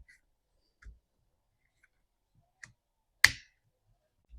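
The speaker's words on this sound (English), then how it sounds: "You want to hear that snap when you put your air filter on." A new air filter snaps into place on a Stihl MS291 Farm Boss chainsaw, one sharp, close plastic click standing out against a few faint taps and handling noises.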